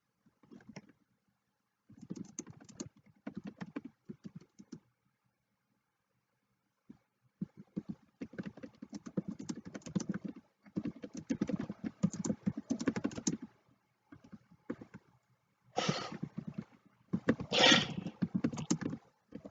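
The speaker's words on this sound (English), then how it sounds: "I'm typing in chat." Rapid clicking of computer keys comes in bursts separated by short pauses, close and fairly soft, with no voices.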